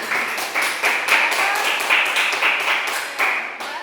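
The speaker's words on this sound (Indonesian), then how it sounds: "Jadi tepuk tangan untuk Syakir dan kelompok 2" A class of students claps hands in a classroom, several short bursts of brisk applause following one another, fairly close and lively, with no talking over it.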